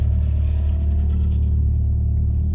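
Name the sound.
Nissan Silvia S13 car engine running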